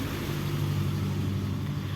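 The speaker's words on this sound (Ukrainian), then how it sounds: "Зараз машина їде." A car drives past a flower garden with a steady, close engine rumble and road noise throughout, and no one speaks.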